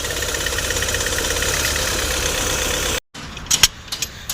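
A Hyundai i20 engine with a misfire fault idling right after cranking, a steady close mechanical hum that cuts off abruptly, followed by a few sharp clanks and knocks.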